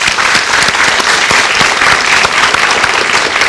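Dense, steady applause from a large television studio audience, loud and continuous throughout with many hands clapping at once.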